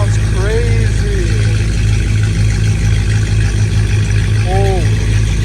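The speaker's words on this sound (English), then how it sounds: "My exhaust sounds crazy." Catless Dodge Challenger Hellcat Redeye engine at night, a loud, steady low rumble with a rhythmic pulsing, heard from inside the car under chatter and exclamations.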